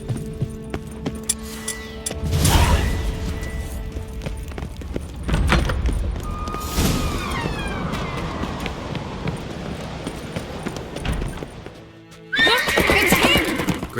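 Horses in The Witcher 3 neigh sharply several times amid clip-clopping hooves, with jangling tack and a shuffle of movement between the whinnies.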